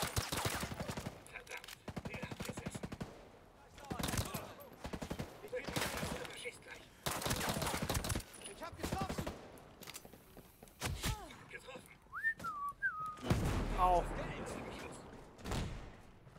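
Gunfire from the video game Ghost Recon Breakpoint, heard as repeated loud bursts and volleys through most of the stretch, with voices talking in between and over it.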